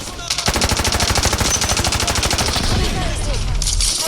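Rapid, sustained machine gun fire in the mobile game Delta Force, a loud continuous stream of shots over a dense rumbling background for several seconds.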